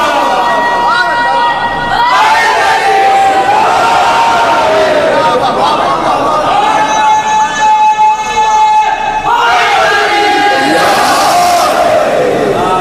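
A large congregation at a religious gathering chants loudly in unison in response to a slogan, sustained sung calls rising and falling in waves, close and filling the space throughout.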